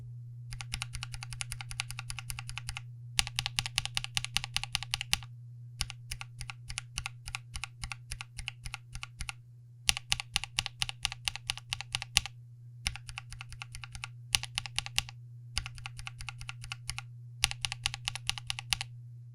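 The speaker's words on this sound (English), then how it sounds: "When you mix north-facing switches and cherry profile keycaps, you get something called keycap interference" Rapid typing on a mechanical keyboard with north-facing switches and cherry profile keycaps, where the keycaps interfere with the switch housing; bursts of close, crisp clacks separated by short pauses over a low steady hum.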